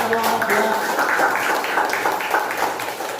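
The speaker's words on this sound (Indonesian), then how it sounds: "Terima kasih, tepuk tangan untuk" Classroom applause during a teaching session presentation, a dense steady patter of many hands clapping close by, lasting the whole moment with a faint murmur of voices beneath.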